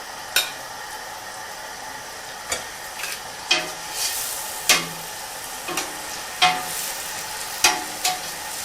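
Ukwoho soup ingredients stirred in a pot, a low simmering sizzle punctuated by regular knocks and scrapes of the spoon against the pot, roughly one every second, with no talking.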